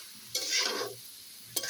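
Bottle gourd sautéing in a pan, stirred in two brief scraping strokes over a soft, steady sizzle, close up, with no voices.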